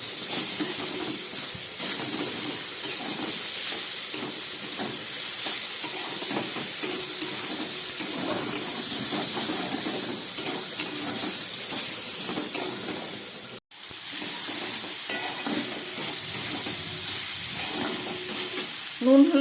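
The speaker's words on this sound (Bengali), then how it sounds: "নুন হলুদ দিয়ে সবজিগুলোকে খুব ভালো করে ভেজে নিলাম" Vegetables fry in a pan with salt and turmeric, giving a steady loud sizzle and hiss with occasional stirring scrapes and one brief break.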